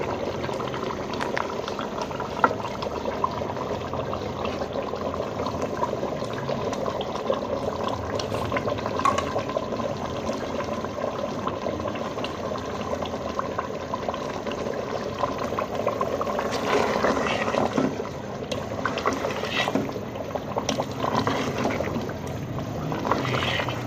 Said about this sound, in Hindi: अब हम इसे 5 से 10 मिनट दरमियानी आंच पे हम इसे भून लेंगे अच्छे तरीके से